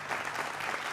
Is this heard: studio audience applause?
yes